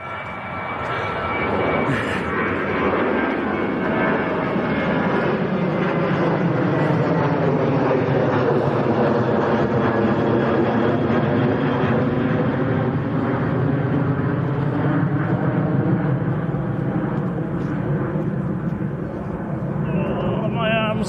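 Aircraft engines roar on runway 1 at Manchester Airport, a loud, sustained jet rumble with a slowly shifting whine that fills the whole stretch, nearby and continuous.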